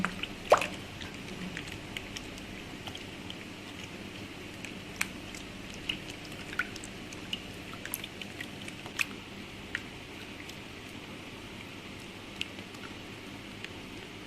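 A homemade herbal shampoo mixture, thickening as it's stirred, gives faint wet squishes, drips and small plops scattered at an uneven pace over a low background hiss, with no talking.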